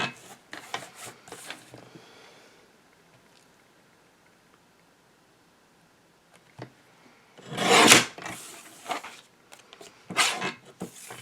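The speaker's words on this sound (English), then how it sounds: "I'm going to cut off this special brother-in-law at Christmas as close to those words as I can" Paper snipping on an old Christmas card: a few short crisp cuts early, then quiet, then a louder burst of scissor cuts and rustling near the end, close and alone.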